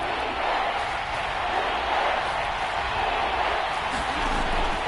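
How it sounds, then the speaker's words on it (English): Stadium crowd noise in a Packers football video game on PS4, a steady loud roar of cheering fans building before a big third down, continuous throughout with no clear breaks. "the crowd getting into it as we come up on a big third down"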